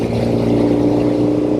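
A 1972 Norton 750 Commando Combat motorcycle engine with rubber isolastic mounting holds a steady, smooth high-RPM drone with a strong even hum, heard close and alone.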